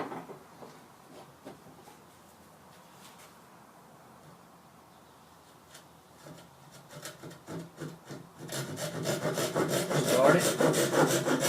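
A hand saw cuts a wooden workpiece for a mitered joint, starting as soft, faint strokes, then growing into loud, rapid rasping strokes close by over the final seconds, with a brief spoken word near the start.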